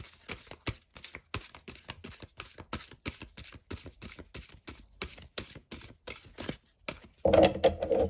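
Oracle cards shuffled in a deck, a long run of quick, crisp riffling flicks in steady rhythm, close and fairly soft, ending with a louder burst of rustling.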